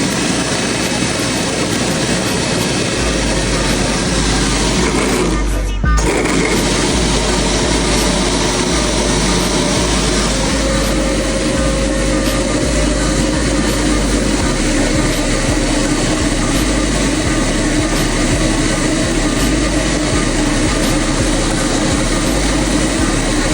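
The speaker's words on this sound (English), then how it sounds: "it's time to turn the machine on and open up all the hoses" A refrigerant recovery machine running during HVAC work, giving a loud, steady droning motor and compressor noise that holds constant, broken by one brief sharp burst early on.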